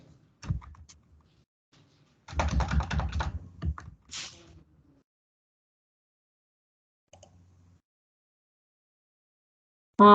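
Keys on a computer keyboard being tapped during data entry in financial software: a short burst of rapid close clicks, then a few isolated taps among long silent gaps.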